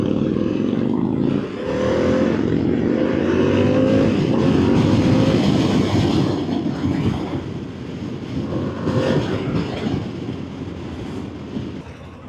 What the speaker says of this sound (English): This is Harley's no nonsense naked sport bike as far as I'm concerned.